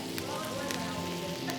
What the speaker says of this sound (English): Okay, so we're gonna add our butter now.